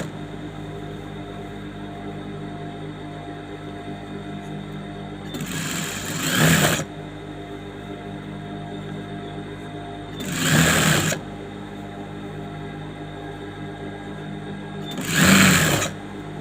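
Sewing machine stitching the neck lining of a saree blouse, three short bursts of rapid stitching a few seconds apart over a steady background hum.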